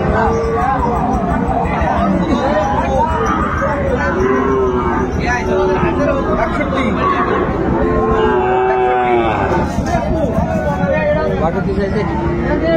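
At a busy cattle market, a Sahiwal bull calf moos a few times, long wavering calls rising over a constant hubbub of voices and nearby talking.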